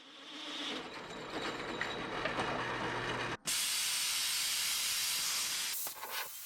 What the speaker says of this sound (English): I can cut the holes out using the plasma cutter